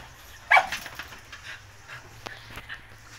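A husky gives a single sharp, fairly loud bark or yelp, followed by soft panting and faint whimpering in an indoor setting around feeding time.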